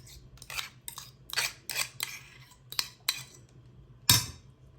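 A spoon scrapes a pumpkin, carrot and yogurt mixture onto a plate in a series of short, close scrapes and clinks, ending with one louder knock against the dish.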